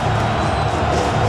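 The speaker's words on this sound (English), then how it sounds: "This crowd into it now as we get to 3rd down." Stadium crowd in a Madden NFL 26 simulation of the Seattle Seahawks against the Tennessee Titans roars ahead of a third down, a loud, steady wash of cheering with a faint whoop.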